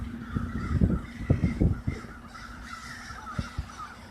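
A huge swarm of crows cawing in the sky, many overlapping harsh caws in irregular bursts, some close and loud, others farther off, with no talk.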